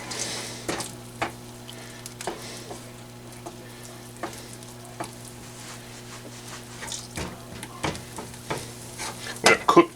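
Bourbon-soaked butter fat sizzles in a small pan, a steady frying hiss with scattered pops and spatters, close and moderately loud, a few sharper crackles near the end.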